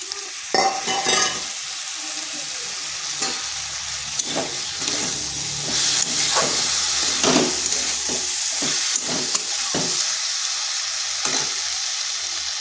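Tomato paste sizzles and spits in a hot pan for a vegetarian flat bean and potato dish, with a steady frying hiss broken by repeated sharp scrapes and clinks of stirring.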